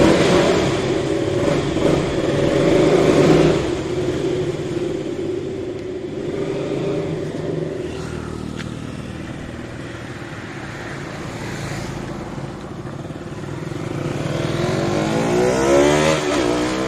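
A KTM motorcycle on a test ride after new adjustable levers are fitted: a steady, loud engine drone that rises and falls with throttle, recorded close with wind rush.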